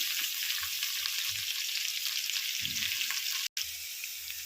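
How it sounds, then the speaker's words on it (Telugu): Green chilli, mint and ginger paste frying in hot oil for a Telugu gongura chicken curry, a steady close sizzle with faint low stirring thumps and a brief cut near the end. "ఆయిల్ పెట్టాను పచ్చిమిర్చి పుదీనా అల్లం పేస్ట్"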